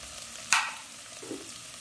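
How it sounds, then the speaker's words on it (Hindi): Garlic and spices frying in oil, a quiet sizzle broken by one sharp spatula scrape or tap and a softer stir shortly after. "अब इन सब को अच्छी तरह फ्राई कर लेना है।"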